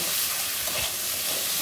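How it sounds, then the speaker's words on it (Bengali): Spiny gourd stir-fries in oil with no water added, giving a loud, continuous sizzle with scraping stirring sounds close up. "আরও একটু নেড়ে চেড়ে ভেজে নিব"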